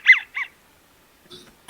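A drake duck calls with two short, rasping honk-like notes close together, followed by quiet and a few faint, brief bird sounds outdoors.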